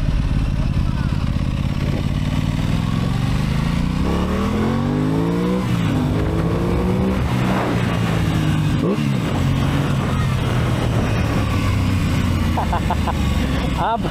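Aprilia Tuono 650 motorcycle engine on a first-gear test ride, revving and pulling loudly with rising and falling pitch sweeps, a steady close engine drone throughout with voices speaking over it.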